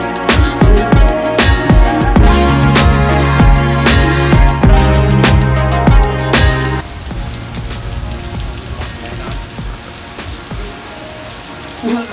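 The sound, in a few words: rain falling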